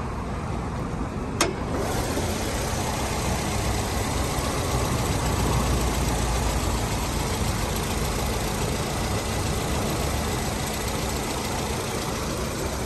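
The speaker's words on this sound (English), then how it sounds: "Not a bad sounding four cylinder." A 2011 Nissan Sentra's four-cylinder engine with automatic transmission runs steadily under an open hood, a continuous close and fairly loud drone heard alone, with a faint click near the start.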